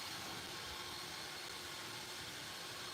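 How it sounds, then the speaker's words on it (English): A small vacuum cleaner whirs faintly and steadily, an even airy hiss that holds without change from start to finish. "because that's definitely like a little vacuum cleaner"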